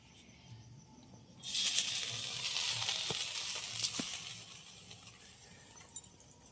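Rice batter poured into a pan with only a little oil sets off a close, steady sizzle. It starts suddenly and keeps going as a broad hiss, with a few small pops on top.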